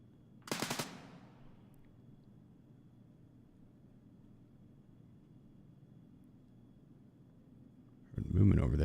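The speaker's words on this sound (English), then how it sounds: "Shots up ahead." A short burst of rapid gunshots from Escape From Tarkov cracks out near the start, followed by a long quiet stretch of low ambient hum before a muffled noise at the end.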